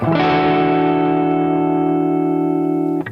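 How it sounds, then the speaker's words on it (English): One distorted electric guitar chord, D over E, struck and held for about three seconds, loud and steady, then cut off with a brief scrape. "The second chord is a tone lower,"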